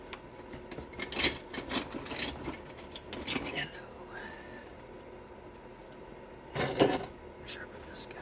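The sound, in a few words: sharpening a tool by rasping or abrading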